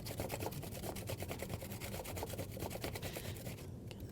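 Steady, rapid scraping of half a cucumber in a kitchen class, a continuous rhythmic rasping of strokes close up that slows briefly near the end.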